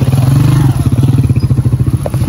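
Motorcycle being parked on its stand at a college, its engine idling close by with a steady pulsing throb, plus light clatter and scraping as the bike is settled, and no talk.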